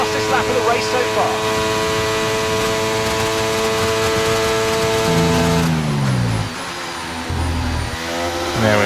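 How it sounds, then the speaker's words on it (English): An F1-style race car accelerating flat out down the main straight at a Spain race in a racing game, its engine note holding a loud steady whine, then shifting up through gears with rising pitch sweeps, under commentary. "So we punch it all the way down the main straight here"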